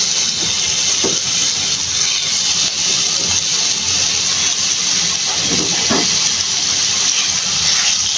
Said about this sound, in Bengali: দেখুন আমি এভাবে নাড়াচাড়া করে উল্টে পাল্টে ভেজে নিচ্ছি